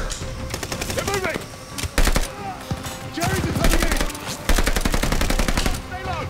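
Rapid gunfire from Call of Duty Vanguard, bursts of loud automatic shots and single cracks in an intense in-game firefight, close and punchy with brief pauses between volleys.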